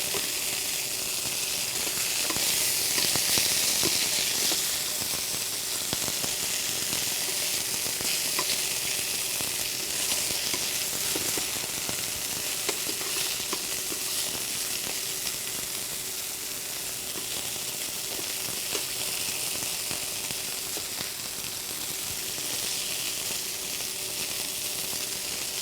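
Pork tenderloin sizzles and fries in hot oil in a pan, a steady dense crackle with scattered sharper pops of splattering moisture running throughout, close and alone without talk.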